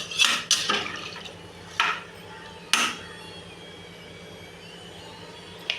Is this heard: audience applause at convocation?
no